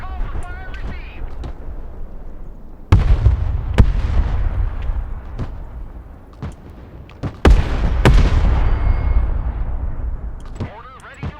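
Artillery fire mission in the Broken Arrow video game: a few heavy booming shots land seconds apart, each a loud low thump with a rumbling tail, while radio voices talk over the battle.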